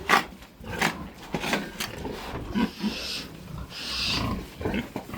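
Rough, low grunts and snorts from piglets on a pig farm come in repeated bursts, close by, with some shuffling noise between them.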